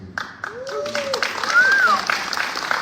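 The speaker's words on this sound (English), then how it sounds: "That deserves a round of applause." Audience applause after a speech at a small business federal contractors association event, steady clapping of a crowd with voices talking over it.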